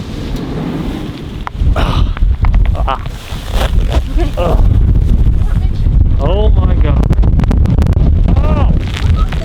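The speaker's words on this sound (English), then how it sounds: "It is pouring and the wind is violently shaking the van." Strong wind gusts roar and buffet against a camper van amid heavy rain in Iceland, with rattling thumps; a person exclaims briefly.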